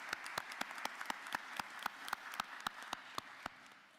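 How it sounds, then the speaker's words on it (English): Applause ripples through the room at a county board of commissioners session, a modest crowd clapping steadily and evenly, faint and somewhat distant. "Give him another round of applause."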